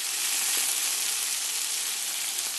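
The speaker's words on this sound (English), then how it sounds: "Push it down, make it sizzle." Chicken pressed down into a hot pan sizzles in a steady, bright crackling hiss, close and continuous for a couple of seconds with no voices.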